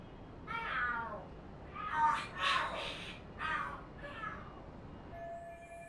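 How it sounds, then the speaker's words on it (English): Several cats yowl and screech in a fight in the video game Lost Judgment: a run of rising, wavering cries in quick bursts, loudest in the middle, then fading, with faint talk underneath. "The hell are there cats fighting?"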